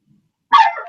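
A dog lets out a single short, loud bark close by after a moment of silence.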